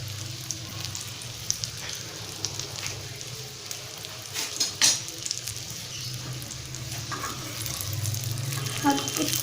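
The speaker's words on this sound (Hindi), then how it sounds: "5 मिनट इसको इसी तरह छोड़ दें, 5 मिनट तक ये फ्राई अच्छी तरह से हो जाएगा" Bread deep-fries in oil over a medium flame, giving a continuous close bubbling sizzle. A low steady hum runs beneath it, with a few brief clinks and swells partway through.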